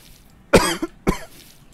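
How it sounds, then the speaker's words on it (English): A person coughs twice in close succession, two sharp, loud, close bursts about half a second apart, against quiet background while playing a gold panning game. "I don't know what's with this cough."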